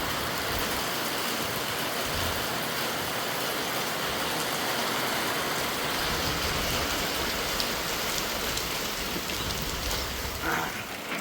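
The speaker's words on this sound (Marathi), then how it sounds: "पाऊस मस्त पडतोय. पाणी गार आहे." Steady heavy monsoon rain pours on a village house in Kokan, water running off the roof and balcony, a constant dense wash of drops filling the whole scene without pause.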